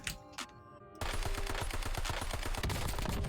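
Video-game rifle fitted with a VAS foregrip firing in full auto, a loud, rapid, steady stream of shots starting abruptly after a second of quieter sounds and running without pause to the end.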